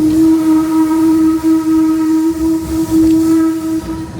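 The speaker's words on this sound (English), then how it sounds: "this has been the Redwood Forest Steam Train" The Redwood Forest steam train near Santa Cruz runs along, its whistle blowing a loud, sustained tone with brief breaks over the rumble of the rolling cars.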